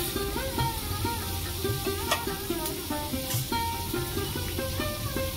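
Onion and tomato fry in a pan for a mutton curry, giving a steady, moderate sizzle with occasional stirring clinks. Background music plays over the sizzle throughout.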